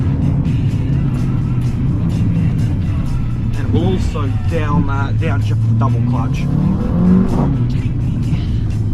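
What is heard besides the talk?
Mercedes CLA 45 AMG stage 1 tuned, exhaust while accelerating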